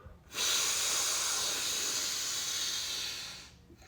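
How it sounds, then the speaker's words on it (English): Deep, long inhalation through the nose during a breathing exercise, a loud, close, airy hiss lasting about three seconds before fading off. "Big deep breath in."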